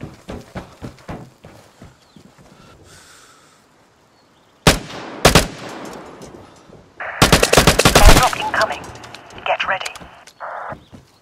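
Gunfire from an AURA-1 weapon in the video game Vigor rattles out in rapid bursts, with earlier single shots and footstep-like thuds, loud and close, broken by a quiet stretch before heavier overlapping firing.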